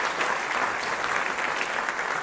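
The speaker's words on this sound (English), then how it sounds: "Give him a round of applause" Full, steady applause from a college band concert audience for the drummer, a thick continuous wash of clapping with no break.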